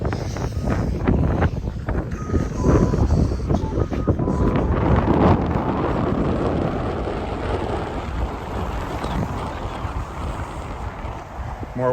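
Wind gusts buffet the microphone on a winter walk through a downtown street, a loud, rough rumble that surges and eases throughout, with brief faint sounds under it.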